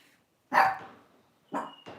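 A dog barks three times, one sharp bark, a pause, then two quick barks, fairly close with quiet between them.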